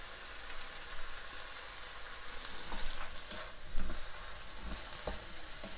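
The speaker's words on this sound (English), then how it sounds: "So now I'm just gonna add in the rest of the season, rest of the dry season." Chicken hearts fry with dry seasoning in a hot pan, giving off a close, steady sizzle with occasional stirring scrapes and small pops. No one speaks.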